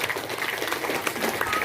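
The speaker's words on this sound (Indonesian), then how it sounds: "Tepuk tangan untuk Partai Golkar Bapak Ibu." Crowd at a community political gathering for the Golkar Party applauding, a dense, steady patter of many hands clapping over a short stretch.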